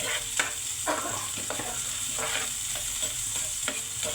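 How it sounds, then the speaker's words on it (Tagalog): Onion and garlic sizzle in a pan as a utensil stirs them, steady frying hiss broken by repeated scraping strokes, close and moderately loud with no talking. "Unahin natin ang sibuyas. Matagal pa lang tunog tong sibuyas. And of course, sunod natin ang ating bawang."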